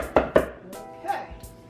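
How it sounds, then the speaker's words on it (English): Vidalia onion chopped on a board for a salad base: knife strikes at a quick, uneven pace, two sharp near knocks followed by softer cuts, with no talking. "and I'm going to chop, chop, chop"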